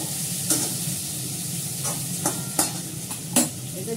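Bay leaf and cumin seeds fry in hot oil in a pan while being stirred: a steady close sizzle broken by a few sharp scraping strokes of the spoon.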